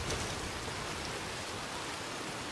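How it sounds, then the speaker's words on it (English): Rain sweeps in across the landscape of the video game Red Dead Redemption 2, a dense, unbroken hiss of falling water that stays constant throughout, with no voices. "Look at this rain coming in right now."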